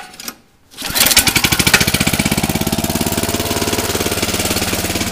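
A small go-kart engine cranks and catches, then runs loud and close with a fast, steady pulsing chug that settles into a rough idle.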